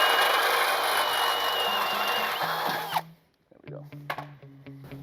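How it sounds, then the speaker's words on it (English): A power drill runs a bit through a steel frame bracket on a Ram truck during a track bar install, a steady high whine that cuts off abruptly, followed by short clicks and tool knocks. "we're going to run a drill bit through this bracket"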